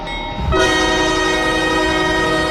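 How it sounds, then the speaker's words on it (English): Train horn on a freight train in the Roblox RO-Scale railway game, a loud sustained multi-tone blast starting abruptly after a brief quiet moment and holding steadily to the end. "And what about the train horn?"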